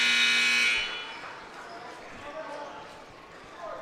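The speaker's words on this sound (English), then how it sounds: "And there's the buzzer." A loud, steady end-of-period buzzer blares for about a second at a high school wrestling match between Crater and West Linn, then cuts off, leaving a murmuring gym crowd and scattered voices.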